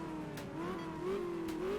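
A rally car in the Art of Rally video game runs a Kenya dirt stage near Homa Bay, its engine note rising and falling through a gear change, quiet and steady with no talk.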